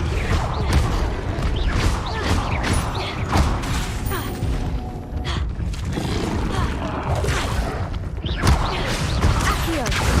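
Levioso levitation spell effect in the Hogwarts Legacy video game, a busy stretch of mechanical clatter, crashes and whooshes, loud and continuous with sharp hits throughout.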